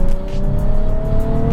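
Nissan 370Z engine with a smooth silicone intake pipe, heard as a steady, loud idle-to-rev drone with a strong low rumble and a faint rising tone, no voices.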